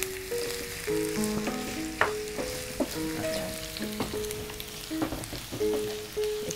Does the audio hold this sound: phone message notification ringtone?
no